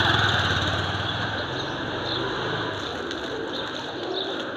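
Pigeons coo softly by an old temple built in the Dakshineswar style, their calls blending into a steady, dense background hum with no talking.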